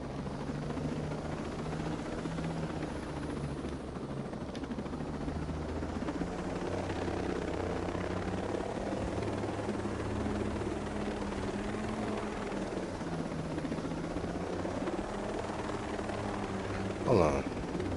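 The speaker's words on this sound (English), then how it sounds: "we about to hop in this helicopter. It's just going to be noisy." Helicopter in flight in Ghost Recon Breakpoint, a continuous droning rotor and engine hum with a steady beat, near and even throughout, as voices talk beneath it.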